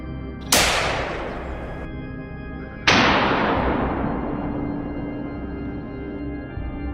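Two loud gunshots from hunters shooting wild boar ring out a couple of seconds apart, each cracking sharply and then rolling off in a long echoing decay over a steady outdoor background.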